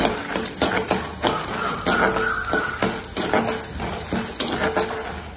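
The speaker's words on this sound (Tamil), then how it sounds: "அந்த சுண்டக்காய் வத்தலை முதல்ல வறுத்து எடுத்துறோம்." Dried turkey berries (sundakkai vathal) roasting in oil in a pan, with repeated close clinks and scrapes of a spoon against the metal pan over a soft sizzle throughout.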